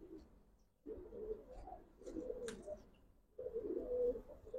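Giribaz pigeons, an old Dhaka breed in silver colouring, coo in low throaty bursts at moderate loudness, several rolling phrases separated by short pauses, with no talk.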